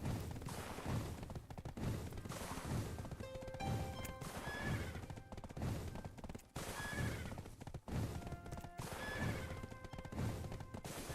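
Horse hooves clip-clop steadily while neighs and whinnies ring out repeatedly in Black Desert Online, a fantasy MMO, with game sound effects layered throughout and no talking.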